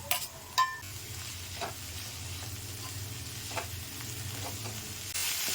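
Banana flower sautéing with turmeric in a pan, a soft steady sizzle with faint scraping and stirring clicks from a utensil, quiet and close, no talking.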